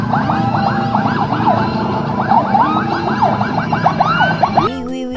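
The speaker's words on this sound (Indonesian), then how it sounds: "Wow, ada mobil putih ambulan teman-teman." An ambulance siren wails in a repeating up-and-down pattern, loud and close, running steadily before cutting off near the end.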